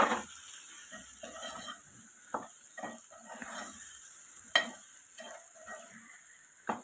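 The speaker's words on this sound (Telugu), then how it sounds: "ఇలా మగ్గిన తర్వాత మనం ముందుగా కట్ చేసి పెట్టుకున్న బెండకాయ ముక్కలు అనేది యాడ్ చేసుకోవాలి" Chunks of okra tumble into a hot pan for a dried prawn, okra and egg curry, giving a soft, steady sizzle with a few sharp clinks of a spoon against the pan.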